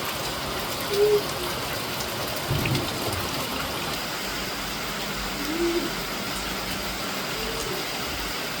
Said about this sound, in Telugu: ఇలా మొత్తం పెద్ద పెద్దగా వాన పడతారు